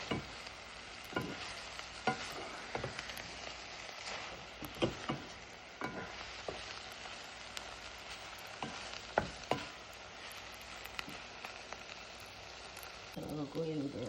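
Chunky corned beef is stirred in a single pot of seasoned rice, soft scraping spoon strokes with light sizzling underneath, quiet and close, with a few sharper scrapes spaced irregularly.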